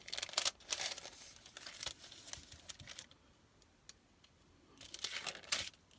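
Crisp crinkling of a faux glassine paper bag being folded, bursts of papery rustle at the start and end with a quieter pause in between, close and fairly soft.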